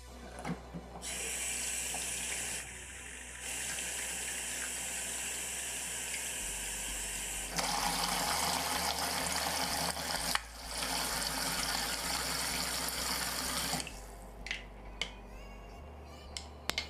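Water runs steadily from a tap, filling a container for a waterproof test of a lamp, with the flow changing pitch and strength a few times before it stops and a few small splashes and taps follow.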